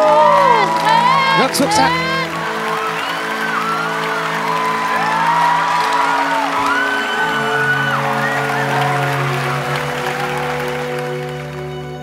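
A studio audience applauds and whoops for a child contestant on a Vietnamese TV talent show, a lively burst at the start that settles into clapping under swelling music, with a voice speaking over it.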